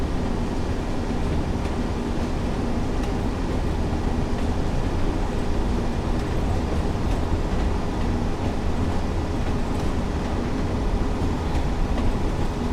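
Class 142 Pacer diesel railbus running in a train simulator game with a cab window left open, giving a steady, loud rumble of engine and rolling wheels with a faint clatter throughout and no speech.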